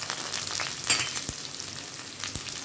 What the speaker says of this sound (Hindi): उसके बाद मैं इसमें प्याज डालूंगी। हरी मिर्च डालूंगी।